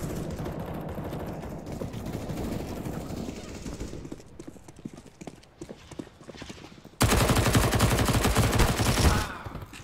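Automatic gunfire in CS:GO, bursts of rapid shots under steady game noise and background talk, with a louder dense stretch of firing near the end.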